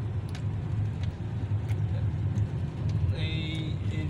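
A car cruising on a highway toward Dhaka airport, its steady low road and engine rumble running unbroken throughout, with a brief higher whine near the end.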